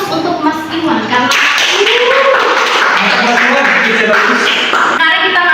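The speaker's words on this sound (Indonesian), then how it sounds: "aplaus untuk Mas Iwan" A classroom audience gives a round of applause for Mas Iwan during a microteaching session, brisk clapping from many hands that runs several seconds, with voices talking over it.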